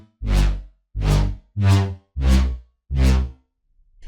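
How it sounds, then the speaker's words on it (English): Serum Bass Mission synth bass preset with a slow attack, playing five separate swelling notes in a steady rhythm, each rising in gently and fading to silence, heavy in the low end and heard alone. "Bass Mission is also a really unique bass"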